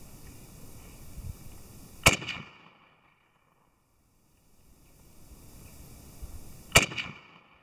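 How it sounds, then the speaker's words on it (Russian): Two loud, sharp rifle reports from Mesko 7.62x39 cartridges fired at a range, about four and a half seconds apart, each with a brief tail, and a quiet near-silent gap between them. "три патрона, три выстрела"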